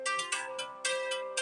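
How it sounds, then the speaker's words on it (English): A mobile phone plays an electronic ringtone, a bright repeating melodic pattern pulsing several times in quick succession, close and clear with no talk. "Okay, my phone's ringing and it might freeze me."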